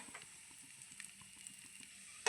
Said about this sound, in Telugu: దోరగా వేయించాలి కిస్మిస్ వేస్తున్నాను